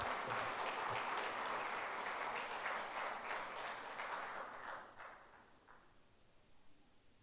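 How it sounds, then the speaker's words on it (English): Audience applause at an X Factor show, dense clapping that fills the first few seconds, then thins and fades out toward the end. "So welcome her with a very round of applause, Arse Mehta."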